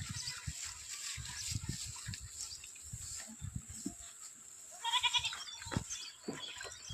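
Several goats bleat repeatedly at close range, their calls overlapping, with faint birdsong chirping in the background.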